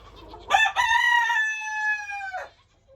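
A rooster crows once, loud and close, a long ringing call that holds steady and then drops off, from under a lean-to in snowy weather.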